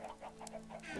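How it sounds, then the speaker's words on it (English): Chickens clucking in a video game, several close soft clucks repeating in short bursts throughout, with a faint high squawk near the end and no talking. "Too many chickens."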